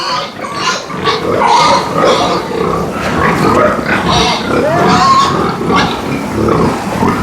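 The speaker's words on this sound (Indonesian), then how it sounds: "Sehat-sehat semua ya babi-babinya ya" Pigs grunt and oink continuously at close range on an organic pig farm, a dense, loud chorus of snorts with little talk over it.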